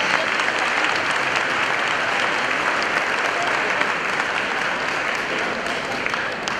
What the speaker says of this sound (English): Let's give them a big round of applause and recognize them as raising some great kids.